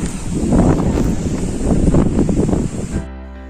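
Steady wind gusts across the microphone by the sea at Sabang, loud and blustery with a surf-like roar, holding for about three seconds before cutting off abruptly.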